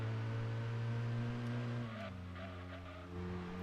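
Peugeot 406 sedan engine in the racing video game Gran Turismo 2, a steady droning hum held at a constant pitch that drops slightly partway through, loud and continuous with no talk.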